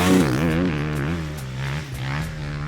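Motocross bikes ride warm-up laps before heading onto the track, their engines revving and droning steadily with rising and falling pitch, fairly loud and continuous without speech.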